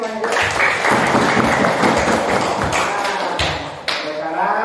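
Primary school students in a classroom clap together in a loud, fast patter of many hands with some thumps, lasting several seconds before tapering off, with a few voices mixed in.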